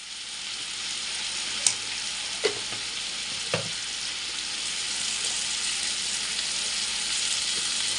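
Cumin powder sizzles in hot oil with a strong, steady close-up hiss, punctuated by a few sharp spatters or pops of stirring in the first few seconds.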